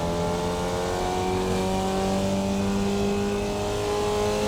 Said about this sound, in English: Do a floating upshift there, just come off of the gas and do it.